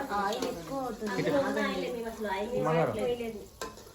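Flour being stirred into hot jaggery syrup in a pot, a steady scraping and sizzling texture running continuously beneath several women chatting close by.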